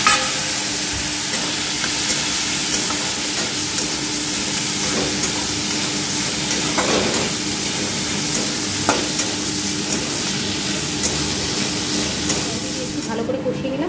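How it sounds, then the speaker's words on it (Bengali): Fried potol sautéing in a pan with onion, ginger paste, green chilli, cumin and coriander powders gives a steady close sizzle with occasional stirring scrapes throughout, running continuously without a break. "ধনে গুঁড়ো একটু কষাবো"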